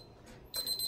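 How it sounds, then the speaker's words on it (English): A 15-minute kitchen-style timer sounds its alarm, a thin high electronic beeping that starts abruptly and pulses quietly in a still room. "The timer is going off, so it has been the 15 minutes."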